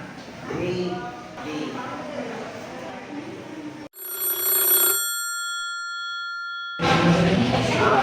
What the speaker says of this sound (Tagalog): Okay, that's the bell.